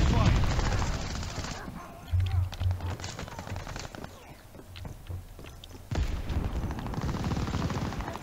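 Rapid bursts of Type 99 rifle gunfire in a shooter video game, loud and close, with a steady wash of game sound between the volleys.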